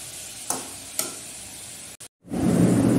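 Vegetables fry in a pan with two light spatula clicks against the metal, a brief silence, then a loud, close, steady sizzle that runs to the end.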